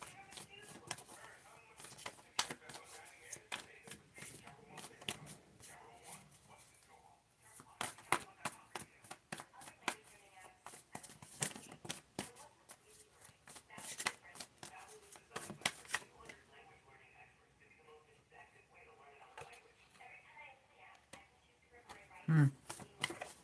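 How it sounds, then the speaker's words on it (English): Playing cards shuffled repeatedly over about twenty seconds, a dense run of quick riffling flutters and soft slaps, fairly quiet and close, broken by short pauses between shuffles. "Let me shuffle."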